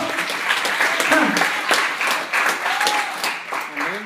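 A church congregation breaks into lively applause, a full, sustained clapping from many hands with voices calling out and cheering over it.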